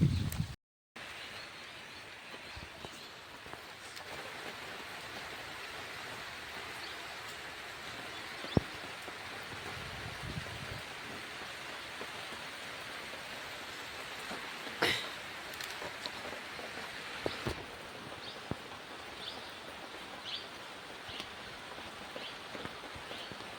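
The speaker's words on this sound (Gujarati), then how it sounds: "વરસાદ તો ચાલુ જ છે." Steady rain falls outdoors in a rural Gujarat setting, heard as a faint, even hiss that continues without a break, with a few soft knocks and no one talking.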